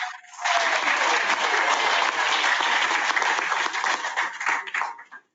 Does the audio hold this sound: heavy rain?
no